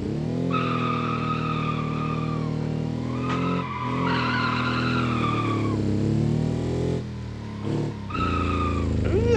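A VW Beetle in the BeamNG.Drive driving game squeals and skids its tires continuously, the high rubber screech bending in pitch over a steady engine drone, loud and close with brief breaks.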